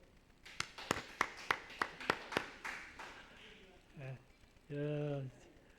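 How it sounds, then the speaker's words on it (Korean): A string of about nine sharp, evenly spaced claps rings out during a Sunday church service as the congregation briefly applauds a child. The clapping is moderately close, then fades, and a voice speaks afterward. "우리 기준이에서 박수."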